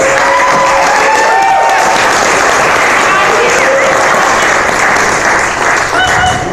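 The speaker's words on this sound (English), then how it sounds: "Please give a big round of applause for my good friend" A comedy club audience in Fort Collins, Colorado applauds loudly and steadily for comedian David Rodriguez, dense clapping mixed with cheers and whoops from the crowd throughout, with a host's voice briefly audible over it.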